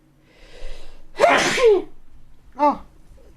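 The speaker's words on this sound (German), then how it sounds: "Ich muss niesen." A single loud, sharp sneeze bursts out near the mic, framed by a faint intake of breath and a smaller sneezy exhale afterward, in a quiet bathroom-like room.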